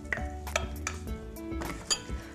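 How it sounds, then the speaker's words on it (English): Orange juice and water being stirred together in a bowl for a microwave Christmas pudding, with a few light clinks and scraping taps of a utensil against the dish, close and brief. "Just mix those together"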